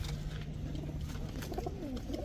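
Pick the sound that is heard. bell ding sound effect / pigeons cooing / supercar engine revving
pigeons cooing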